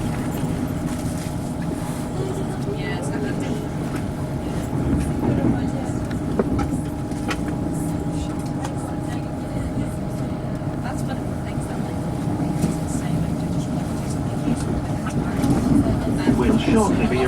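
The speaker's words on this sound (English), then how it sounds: "then we go through the Lime Street tunnels" A passenger train runs through the Lime Street tunnels into Liverpool, a steady low rumble and wheel noise heard from inside the carriage for the whole stretch, with faint clicks and a tonal hum, and no one talking.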